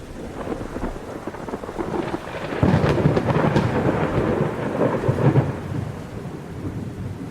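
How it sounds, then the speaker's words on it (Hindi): Steady rain falls throughout, and a deep roll of thunder swells in partway, rumbling loudly beneath the downpour before fading back to rain. "ये तुम्हारी पहली बारिश है।"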